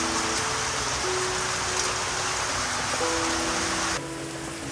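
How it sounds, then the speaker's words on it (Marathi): Heavy monsoon rain pours down in the Konkan countryside, a dense, steady hiss of drops drumming on surfaces, with a faint tonal hum underneath and a slight drop in level near the end. "पाऊस एवढा आला की विचारू नका"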